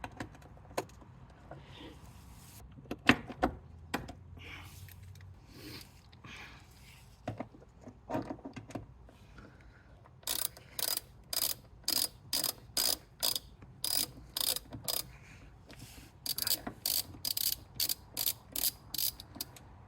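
A ratchet wrench works 13 mm bolts loose on the transmission mounts of a BMW Z3 E36, giving scattered clicks early, then rapid bursts of sharp, close ratcheting clicks in quick runs.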